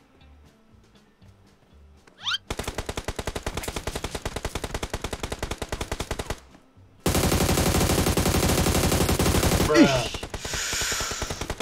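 Teammates' gunfire in a battle royale video game: long sustained bursts of automatic fire, loud and close, first one steady rapid stream, then a denser heavier volley after a short pause, with a brief spoken word at the start.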